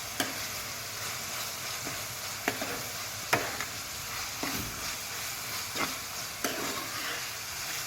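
Chicken bread rolls fry steadily in oil over a medium-low flame, a continuous soft sizzle with occasional sharper crackles and light stirring clinks, close and alone without voices.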